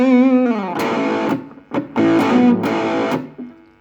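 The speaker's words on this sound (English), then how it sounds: "you can hear the volume goes up with it, but also the intensity of the distortion is a lot more now as well" An electric guitar through a Nux Mighty 8 BT amp with high-gain distortion plays loud, saturated, sustaining notes and chord hits with sharp attacks and short gaps, close and alone.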